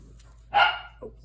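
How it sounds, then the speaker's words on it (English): A single sharp puppy bark, fairly close and loud, followed by a shorter, softer yip a moment later, against a quiet background. "Oh, and there she goes a-barking."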